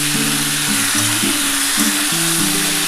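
Green peas and green chillies frying in a wok for a mixed vegetable dish, a steady close sizzle with faint stirring scrapes and no talk.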